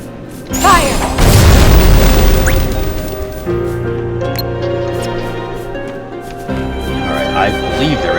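A Fire magic spell bursting in the video game Kingdom Hearts: Birth by Sleep 0.2, one loud, deep boom with a crackling, rumbling tail that fades over several seconds, followed by softer game sounds and effects.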